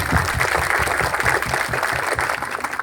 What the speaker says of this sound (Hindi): एक जोरदार तालियां प्रभु यीशु मसीह के लिए।